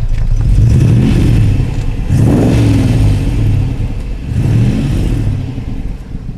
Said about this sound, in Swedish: hur vackert det kan låta ur en avgaspipa i en Daimler V8